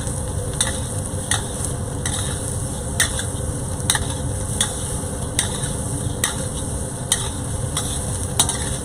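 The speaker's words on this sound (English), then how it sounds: "you're just going to stir to combine" Three cups of cooked rice are stirred in a sizzling frying pan, with a steady hiss of frying under regular scraping strokes of the utensil against the pan, close up and without talk.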